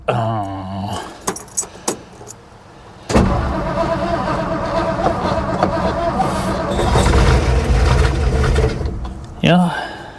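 A car engine with a carburetor cranks and tries to start after a few sharp clicks and key jangles, then churns loudly and continuously for several seconds before cutting off, with a voice heard near the end.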